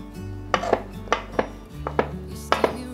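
Knife chopping shiitake mushrooms on a cutting board, crisp close knocks in quick pairs repeating several times over a quiet background.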